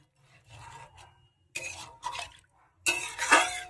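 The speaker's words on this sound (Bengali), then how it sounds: "এই যে টমেটো ধোয়া জলটা দিয়ে দেবো, মাছগুলো ডুববে সেই মতন জলটা দিলাম।" Water used for washing tomatoes is poured in three short splashing bursts into a pan of tangra fish with brinjal, close by, the last pour loudest, with brief quiet gaps between.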